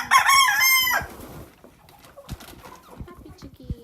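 Chickens in a winter coop: a rooster crows loudly up close at the start, then hens keep up softer, intermittent clucks and scratchy rustling.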